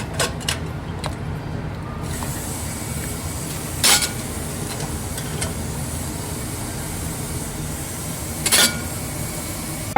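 Metal canning jar rings lifted out of hot water and dropped into a clean bowl while canning peaches, giving a few separate bright metallic clinks over a steady low background hum.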